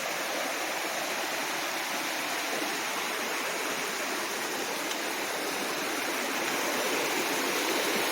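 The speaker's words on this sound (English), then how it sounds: "This is a little bit more hardcore Cascade than our little creek." A cascading creek waterfall on the Appalachian Trail between Hot Springs and Damascus, a loud, dense, continuous rush of white water close by that never lets up.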